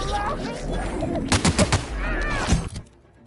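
Several quick bursts of gunfire in The Outer Worlds, loud and close, over a busy background of effects and music, fading out at the end.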